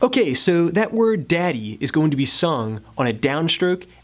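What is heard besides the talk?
No everyday noise stands out behind the speech.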